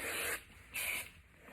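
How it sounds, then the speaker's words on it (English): Hairspray sprayed onto the top of styled hair in two short bursts, each a soft close hiss lasting about a third of a second with a pause between, and no talking. "I do the same thing over here where I spray the top, but not so much the bottom down here"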